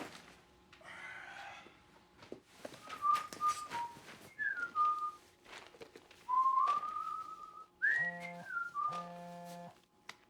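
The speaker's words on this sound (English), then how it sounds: "What is he whistling?" A person whistles a wandering melody in clear, sliding notes, with pauses between phrases and some faint background noise.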